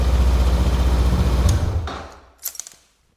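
Motorcycle engine idling steadily and fairly loud at close range for about two seconds, then dying away into near silence with a few brief light clicks at the end.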